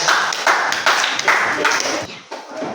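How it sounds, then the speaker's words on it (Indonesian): A class claps for the first drama group with a short burst of uneven hand claps. They rise and fall in a few waves and fade out near the end, fairly close in a room. "Ya, sekarang kita beri tepuk tangan."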